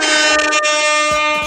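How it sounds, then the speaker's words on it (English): A loud, sustained blast of an air horn, steady and brassy, filling the whole moment without pause. "We're gonna give her an air horn just cause,"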